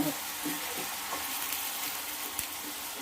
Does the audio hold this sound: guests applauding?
no